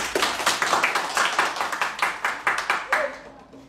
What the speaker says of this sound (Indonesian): Tepuk tangan lagi yuk.